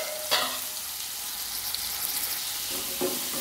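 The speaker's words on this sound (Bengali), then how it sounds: "ওই পটল ভাজা তেলেই আমি নুন হলুদ মাখানো চিংড়ি মাছগুলো একটু ভেজে নেব।" Prawns coated in salt and turmeric fry in oil left over from frying pointed gourd, giving a steady close sizzle with a few louder spatters and stirring scrapes.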